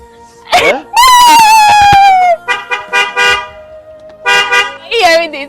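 A car horn sounds loudly, first as one long blast and then as shorter honks, mixed with raised voices nearby.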